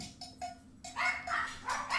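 A Labrador barks in short, sharp yips, two or three brief calls early on followed by louder, denser barking, fairly close and without any talk.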